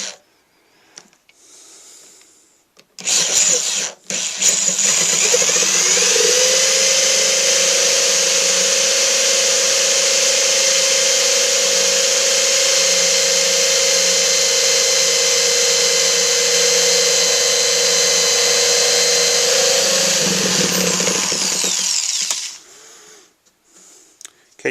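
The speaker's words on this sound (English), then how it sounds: "you want to go all the way through to make sure it gets reamed to a 1/2 inch" A power tool reams a hole to 1/2 inch in an acoustic guitar while an LR Baggs Active I-Beam pickup is installed, giving a loud, steady, close whine that runs unbroken for about eighteen seconds before winding down.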